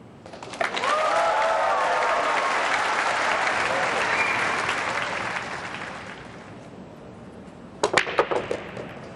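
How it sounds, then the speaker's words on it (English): Audience applause erupts as the 9 ball drops in a world pool championship final, a loud sustained burst that swells and slowly fades, followed near the end by a few sharp clacks of balls. "listen for the applause when this 9 drops"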